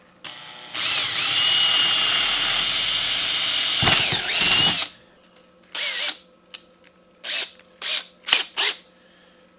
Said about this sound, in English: I'll pull this to the edge of my table and drill right through the wood